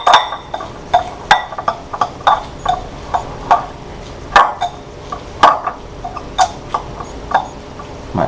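Knife chopping strong onions on a cutting board while preparing pico de gallo, a steady run of sharp close knocks at roughly even intervals, some harder than others.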